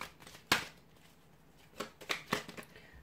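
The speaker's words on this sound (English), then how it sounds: "I'll give the cards a shuffle and see what is the message here from divine masculine" Oracle cards being shuffled by hand, a few quick papery riffles and flicks, close and fairly quiet.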